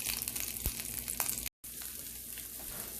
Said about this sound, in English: the rendered fat from the lamb is starting to come out.